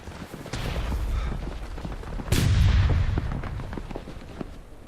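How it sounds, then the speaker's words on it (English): Musket volleys fire in a Civil War first-person shooter game, with several sharp cracks and one heavy booming volley midway, over a steady din of battle. "Firing by volley."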